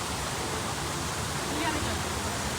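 Steady rushing water pours from a Fountain of Youth feature into a lagoon at a Myrtle Beach mini golf course, a close, dense, unbroken splashing hiss.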